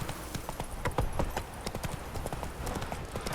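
Roach the horse trotting in the video game The Witcher 3, a quick, steady clip-clop of hooves on hard ground, close and continuous, with faint background game sound.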